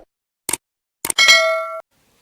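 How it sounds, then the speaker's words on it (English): A notification bell sound effect: two quick clicks, then a bright metallic ding that rings with a clear sustained tone for about half a second before cutting off sharply against silence. "hit the bell button so that you can get the notifications every time I upload"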